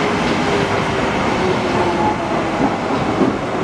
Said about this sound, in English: It's a 2-unit DLR train.